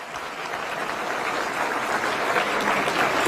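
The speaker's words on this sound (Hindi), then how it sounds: "एक बार सभी के लिए जोरदार तालियां।" Loud, steady applause from a large audience at a Delhi government event attended by ministers, building slightly and continuing without a break throughout.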